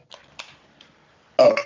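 A single loud burp erupts near the microphone during a wrestling podcast, brief and throaty, following a few faint scattered sounds and quiet gaps.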